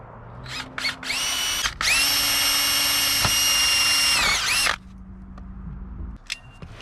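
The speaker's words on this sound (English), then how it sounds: "I don't know how many to drill, so let's drill a few." A power drill spins up with a few short trigger bursts, then runs in one long high whine close by before winding down; no one talks.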